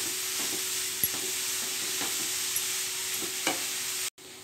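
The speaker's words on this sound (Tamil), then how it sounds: "கொஞ்ச நேரம் அப்படியே நெய்யிலே கொஞ்ச நேரம் வதக்கிக்கலாம்." Grated carrot sautés in ghee for carrot halwa, giving a steady, soft sizzling hiss throughout. Occasional scraping stir taps come from the pan, and it cuts out briefly near the end. No voices.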